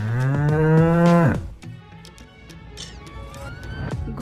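A cow lets out one long, loud, close moo lasting over a second, followed by quieter background sounds and faint clip-clop-like knocks.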